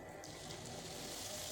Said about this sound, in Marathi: पाणी घालायचे.